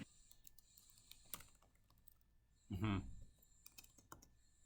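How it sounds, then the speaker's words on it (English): Notes are typed on a computer keyboard in a quiet room: scattered soft key clicks and taps, with one brief louder burst of noise partway through. "Sorry, I was typing here notes."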